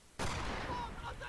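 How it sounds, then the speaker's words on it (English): Single sharp sniper rifle shot in the Company of Heroes video game, a sudden loud crack that decays into a rolling echo over about a second. "Where did that shot even come from?"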